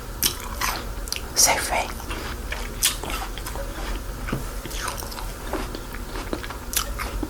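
Crisp bites into a crunchy organic apple from Safeway, several sharp crunches followed by close, wet chewing, with a brief spoken word in between.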